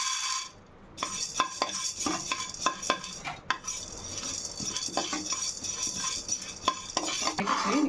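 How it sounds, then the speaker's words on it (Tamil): Grains being roasted and stirred in a pan for a multigrain baby porridge mix, heard as a close, continuous rattle of dry grains with repeated scrapes and knocks of the spoon against the pan. "இந்த கல்லை வறுத்துக்கலாம்"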